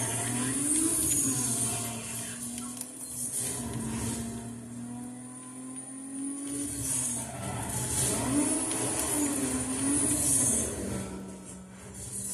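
Lexus IS300 racing in Need for Speed Most Wanted against Blacklist #4, its engine droning steadily with rising and falling pitch as it revs through gears, a sustained close roar under faint high whine, no talk.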